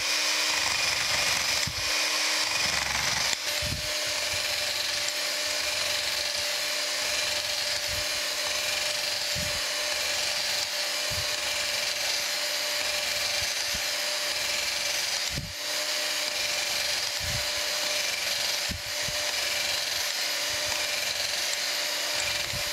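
Power flaking tool working the ways of a metal planer, a steady high buzzing whine with rapid tapping pulses, close and continuous, interrupted by a few brief pauses as it is repositioned.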